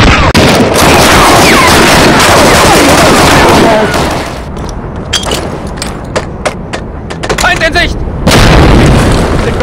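A grenade blast in a Medal of Honor Allied Assault multiplayer match, a loud booming burst amid heavy gunfire, followed by scattered sharp shots and thuds as the noise thins, then another loud surge at the end.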